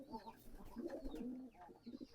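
Pigeons coo continuously in low, throaty bursts, close by and somewhat agitated, as a Sirazi pigeon fights a local male pigeon, with a faint voice murmuring in the background.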